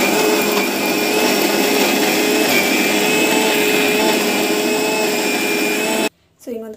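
An electric mixer grinder whirs loudly and steadily while blending chutney, running for about six seconds before stopping abruptly, after which a voice briefly talks.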